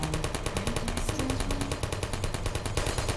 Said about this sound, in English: There's so much gunfire.